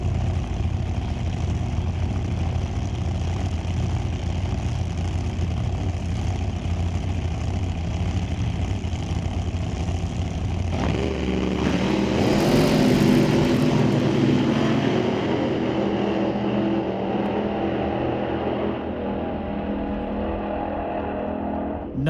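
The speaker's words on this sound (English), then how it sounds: "in the right lane with a Chevy 406 out in the open air" A Chevy 406-powered drag car at an old-time drag racing meet roars steadily down the strip in the open air, its engine note swelling louder and harsher about halfway through before fading slightly toward the end.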